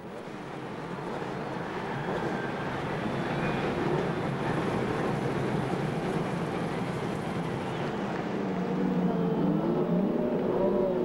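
Indy 500 race cars of 1993 rolling off behind the pace cars on the 2.5-mile oval, a broad steady engine rumble that swells and grows louder toward the end, with wind noise over it.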